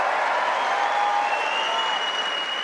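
Wimbledon tennis crowd applauding Novak Djokovic after a semi-final-clinching win, a dense, steady roar of clapping filling the whole stretch with no talk over it.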